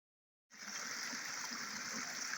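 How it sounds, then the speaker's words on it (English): Steady broadband rush of a forest stream spilling over little waterfalls, continuous and close after a brief silent start, with no talk. "Some nice little waterfalls per se on the stream beside it."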